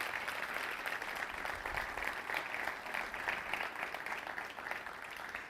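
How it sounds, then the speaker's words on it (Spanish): Church congregation applauding during a Spanish-language sermon, a steady wash of clapping from many hands, fairly distant and even throughout, with no talk over it. "¿Por qué no le das un aplauso al Señor por esto,"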